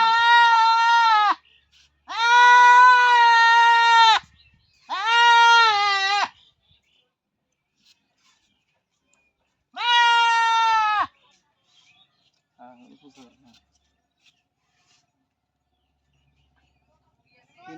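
A goat undergoing artificial insemination lets out four loud, drawn-out, nasal bleats, three in quick succession and one after a pause, close by, with faint rustling and a short muffled sound afterward.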